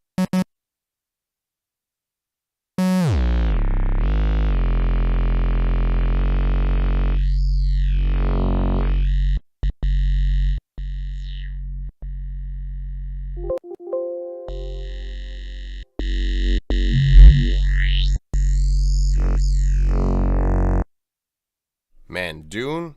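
Dune software synthesizer playing Quantum Fold wavetables: loud, sustained buzzy synth tones with gliding pitch sweeps and shifting timbres, broken by a few abrupt cuts and a short choppy passage before the drone returns and stops.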